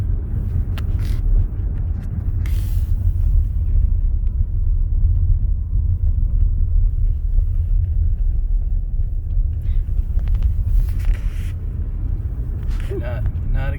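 A car drives down Kent Des Moines Road during a small snowstorm, with a steady low cabin rumble of tires and engine throughout and a voice speaking faintly over it.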